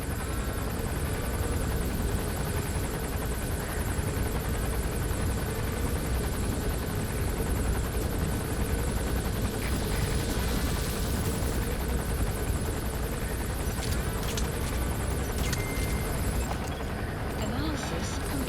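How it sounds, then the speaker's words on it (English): An enemy gunship helicopter in Metal Gear Solid V gives a steady, loud rotor and engine drone that holds throughout, with in-game speech over it. "That's an enemy gunship."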